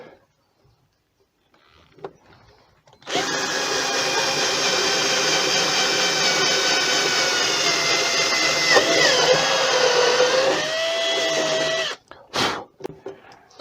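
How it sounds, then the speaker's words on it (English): A power drill whirs steadily into scrap wood for about nine seconds, its pitch sagging slightly as it bites, then stops, followed by a few clunks. "drill a hole where you marked"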